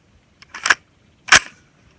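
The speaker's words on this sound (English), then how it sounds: "Last 5 shots from 50 yards on a 90-degree day with the rifle just coming out of a 111-degree vehicle." Two sharp rifle shots fired at a target 50 yards away on a 90-degree day, with the rifle fresh from a 111-degree vehicle; the cracks come about 0.6 seconds apart, loud and outdoors, with nothing else heard.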